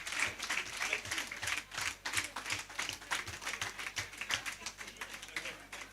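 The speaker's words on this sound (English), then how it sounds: "please give a round of applause to these presidents" A Rotary club gathering gives its presidents a round of applause: a fairly faint patter of hand claps from a modest crowd, rhythmic and sustained throughout.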